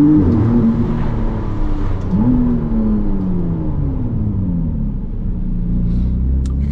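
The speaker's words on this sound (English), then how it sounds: "Because the engine is right behind you, oh, you can hear everything." A McLaren Artura sports car's engine, mounted right behind the seats, rumbles steadily, its pitch swelling and sliding as the revs rise and fall, heard close up with no talking.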